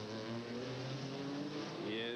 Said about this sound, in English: You can hear that front part of the car dragging.